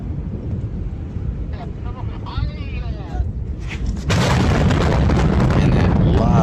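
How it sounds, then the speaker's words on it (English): Recording of the Beirut explosion aftermath: rumbling broadband noise with voices early on, then a sudden loud, sustained boom from about the four-second mark that stays heavy and dense to the end. "that loud, like delayed bang that comes after the explosion is just so terrifying"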